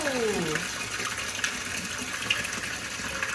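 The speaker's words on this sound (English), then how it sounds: "I'm going to turn the volume of water down a little." Water gushes steadily from a bathtub tap into the tub, a constant close rushing and splashing that fills the whole stretch with no talk over it.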